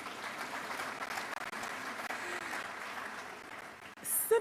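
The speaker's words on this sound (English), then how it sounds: "Clap for KNUST." Steady applause from a large crowd at a university congregation ceremony at KNUST, sustained clapping heard from a distance for about four seconds.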